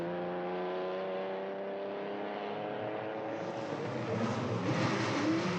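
A Ferrari racing car engine at the Monaco Grand Prix, a steady high droning whine that swells and roughens as it revs near the end, with no talking.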